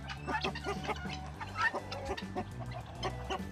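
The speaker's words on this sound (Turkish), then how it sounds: "Tavuklarımız, horozlarımızın fazlalarını getirdik buraya koyduk." Chickens, hens and roosters together in a coop, cluck repeatedly in short overlapping bursts, fairly close but moderately quiet, with a low background hum.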